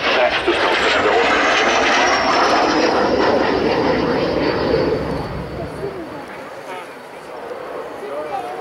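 A Saab 105 jet trainer passes at an air show, its broad roaring engine noise loud and steady before fading slightly as it moves away, with a commentator talking over it.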